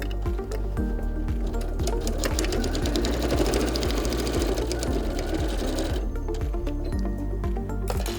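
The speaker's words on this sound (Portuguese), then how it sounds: "Vamos lá terminar aqui a nossa costura." A sewing machine stitches a Santaflex men's toiletry bag, running in a steady, loud mechanical rattle at close range for several seconds before easing into a lighter, slower run near the end.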